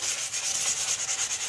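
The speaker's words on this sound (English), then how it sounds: "what you're doing here is you're basically sanding away that oxidation on there" Hand sanding oxidation off a cloudy plastic car headlight with rough abrasive, a close, rhythmic raspy scrubbing of quick back-and-forth strokes.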